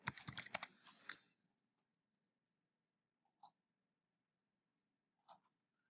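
Someone types on a computer keyboard: a quick burst of close clicking keystrokes, then quiet with a few isolated key taps after it.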